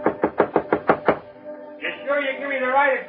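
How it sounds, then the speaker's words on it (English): Seven quick, firm knocks on the door of an old house at the edge of Golden, Colorado, loud and close in an even rhythm, followed by someone speaking. "Colorado looked empty, but I knocked anyway."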